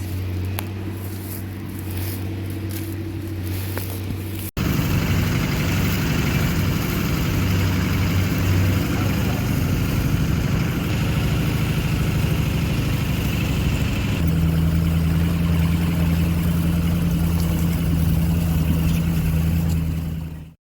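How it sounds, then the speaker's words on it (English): A farm tractor engine runs steadily during mid-July corn planting, a loud, continuous low drone that shifts in pitch a few times as the engine load changes, with no talking over it. "Tractor sounds nice. You should hear it in the trees."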